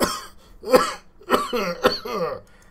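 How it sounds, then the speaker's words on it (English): A man on a gaming stream coughs four times in quick succession, each a short, rough, voiced burst close to the mic, with brief quiet gaps between them. "I'm just coughing. That's all. It's just a cough."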